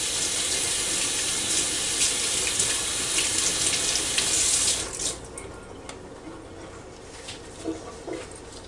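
Tap water runs steadily into a sink as hands are rinsed, loud and continuous for several seconds, then the flow cuts off, leaving softer drips and splashes.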